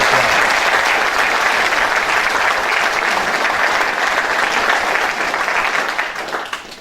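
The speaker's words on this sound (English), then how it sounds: "So let's give all of them, if you would, a round of applause." Audience at a city State of the City address gives a sustained round of applause, dense even clapping filling the room for several seconds before tapering off at the end.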